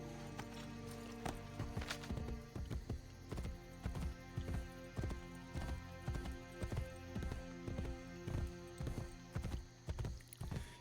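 Horse hooves in the Assassin's Creed video game beat a steady, rhythmic clip-clop across the ground, loud and close, with faint game ambience underneath and no talking.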